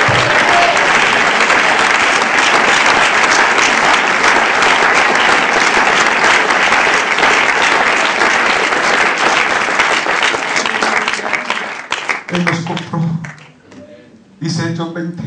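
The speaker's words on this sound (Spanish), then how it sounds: "Den un aplauso a Jesucristo" A church congregation bursts into loud, sustained applause during a Spanish-language sermon, the clapping thinning out near the end as a few scattered claps and a voice return.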